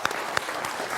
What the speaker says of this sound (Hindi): जनता जनार्दन के लिए जोरदार तालियां।